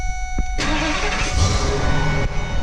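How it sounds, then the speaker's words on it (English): A 21-year-old truck's engine turns over after a short click, then catches and settles into a loud, close, rough idle with a steady low rumble. "Let's get the old truck started."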